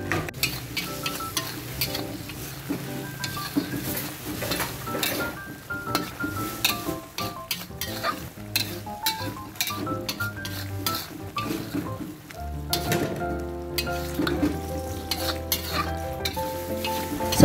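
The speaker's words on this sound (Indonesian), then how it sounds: "lalu kita aduk rata" Spices with ground pepper sizzle and fry steadily in a pan while a utensil stirs and scrapes, with occasional clinks against the metal.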